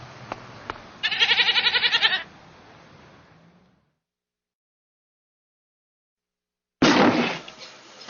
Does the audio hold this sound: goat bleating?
yes